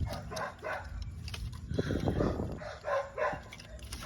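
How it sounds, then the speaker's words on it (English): A dog barks faintly in the background of a home garage during a BMW N55 engine and transmission removal, a few soft barks under low workshop noise. "Excuse my dog"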